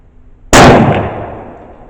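A single sharp, loud 8mm rifle shot from a 1942 Turkish Mauser firing a soft point round, with the impact bursting a brick, followed by a decaying echo and no voices.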